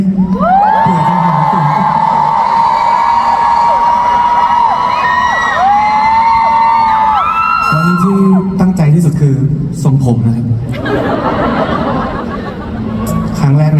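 A loud concert crowd screams and cheers together, with a sustained high shriek over energetic noise that shifts and surges, then breaks into scattered shouts and chatter.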